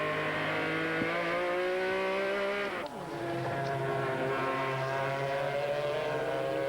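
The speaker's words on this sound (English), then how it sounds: "As we go on board with the 66 Buckler car, Kevin Buckler, Philip Collin. This is the Racers Group Porsche." Onboard Racers Group Porsche race car, the number 66 Grand-Am 2000 entry, its engine droning loud and steady with a near-constant high pitch that dips once on a brief lift around a gear change before settling back to a sustained roar.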